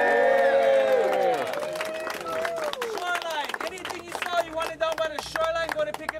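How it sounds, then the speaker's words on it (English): Applause and scattered cheers break out from a crowd at an outdoor luau, mixed with hubbub and overlapping voices, the clapping growing choppier and more uneven toward the end. "Let's give a man over here a big round of applause."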